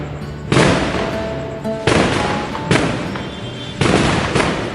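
Firecrackers burst in a cartoon Diwali street scene, four loud broadband blasts each trailing into crackling rumble, spaced roughly a second apart with no talk.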